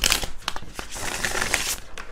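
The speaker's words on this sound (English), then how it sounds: "I'm going to put those back because I'm going to shuffle." A deck of tarot cards is shuffled by hand in quick irregular bursts of papery riffling and slapping, close and fairly quiet.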